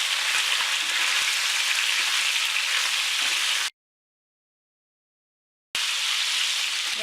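Spicy chicken legs frying in a pan while being stirred, giving a loud, dense, continuous sizzle nearby that cuts out completely for about two seconds, then returns.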